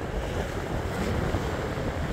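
Black Sea waves washing over a pebble beach at Arkhipo-Osipovka on a breezy March day, a steady soft rush of surf with wind noise and no voices.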